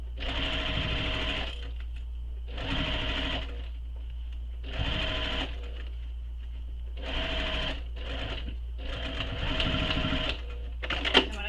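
A sewing machine stitches a shoulder bag seam in bursts of steady running, roughly six runs of a second or so each, separated by brief pauses and light handling noise, with no one talking.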